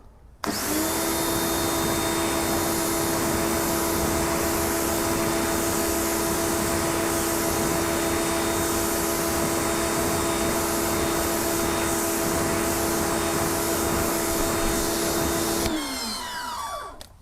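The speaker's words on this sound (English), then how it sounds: "So let's go ahead and rinse that now as well." A water spray rinses a car wheel as a steady, loud motorised whine drones on evenly for about fifteen seconds, then winds down and stops near the end.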